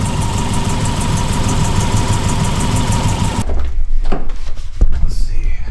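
A Toyota AE86 with a swapped 3SGE BEAMS engine runs close by with a loud, rough, steady idle that drops off abruptly partway through, leaving quieter handling noises and scuffs.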